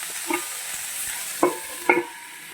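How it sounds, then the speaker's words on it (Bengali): Cauliflower fries in a pan with a steady sizzle, while a spatula stirs and knocks against the pan a few times. "আমি ভালো করে ভেজে নেব কপিটা তাহলে ভাজা হোক"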